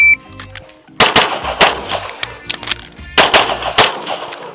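Loud, close pistol shots at a shooting competition reload drill, a sharp string of cracks with ringing steel-like tails, a pause, then another quick string of shots.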